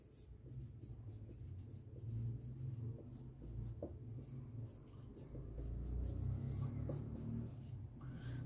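Pen or chalk scratching steadily across a writing surface during a database management class, a quiet continuous rubbing with faint room rumble and no talk over it.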